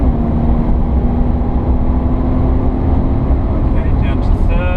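A Jaguar XF 360 hp engine drones loudly and continuously from inside the car on the Pamplona circuit, holding a steady high-revving pitch with road and wind noise, and a voice speaks over it.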